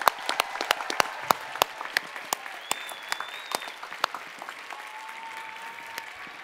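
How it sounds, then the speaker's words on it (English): Scattered hands clap at a university graduation ceremony, producing sparse, distinct claps with uneven spacing and some faint tones in the background. "I invite you to join me in a round of applause to recognize these accomplishments here today"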